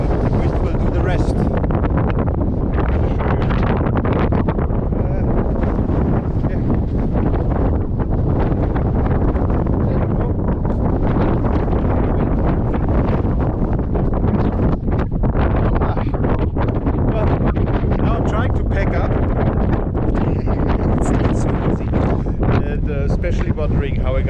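Strong, gusting wind in Patagonia, Argentina buffets the microphone in a loud, continuous roar with sharp bursts and flutter, close and overwhelming for the whole stretch.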